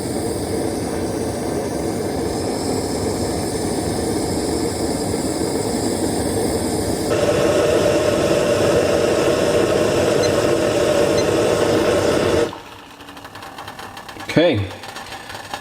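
A UL2600 Pro remote canister stove burns at full flame with a steady, close roaring hiss that grows slightly louder partway through, then cuts off, followed by a brief rising whistle-like swoop.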